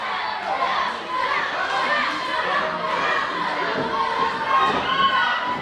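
Wrestling crowd at a Covey Pro event cheering and shouting steadily to rally a downed wrestler, a dense roar of many voices with children's yells standing out and occasional thuds from the ring.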